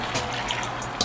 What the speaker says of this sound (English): After that, you are gonna be putting water in.